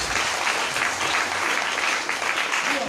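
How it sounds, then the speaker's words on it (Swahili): A church congregation claps steadily and loudly during a Swahili sermon, a dense, continuous wash of many hands filling the space with no voices rising above it. "Kama unapiga makofi usipige"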